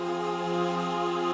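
A synth choir pad holds a single sustained chord, unfiltered and without EQ, as part of a hard hip-hop beat. It sounds steady and full, then cuts off abruptly after about a second and a half, with no voices.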